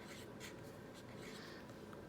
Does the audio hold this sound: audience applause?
no